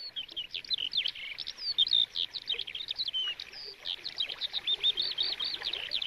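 Several songbirds sing and chirp continuously in a quiet outdoor setting, bright overlapping tweets and trills at moderate distance with no talking.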